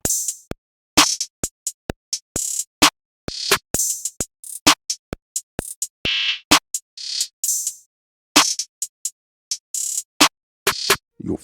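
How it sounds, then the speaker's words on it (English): Dark trap beat drum pattern plays loudly alone, with sharp snares and claps, rapid hi-hat rolls and short stuttering bursts in a syncopated rhythm. "So in context, all the drums sound like this together."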